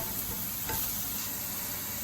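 Fenugreek leaves frying in a pan for a minute, giving a steady hiss with a faint stirring scrape, close and even throughout with no talking.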